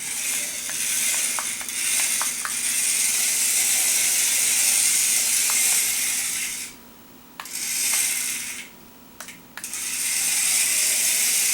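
A small Adventure Force Rapid Racer radio control car driving indoors gives a steady high-pitched electric motor whine with brief clicks and ratcheting bursts, dropping out twice for short pauses before resuming.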